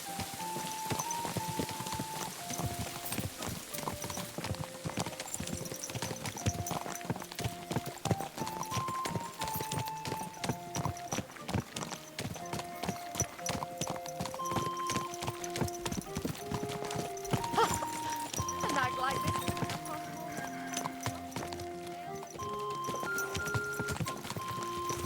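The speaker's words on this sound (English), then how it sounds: "Watch out with that horse!" Steady clip-clop of horse hooves at a walking pace in the video game Kingdom Come: Deliverance II, over a busy bed of music and ambient sound, continuing throughout.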